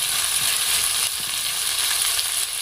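Fish sizzles and crackles steadily in plenty of hot oil, a dense, continuous frying hiss heard up close with no talking.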